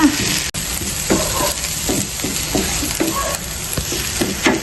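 Onions sautéing in a pan for pork giniling, a loud, continuous close sizzle with repeated scraping stirs of a spatula throughout.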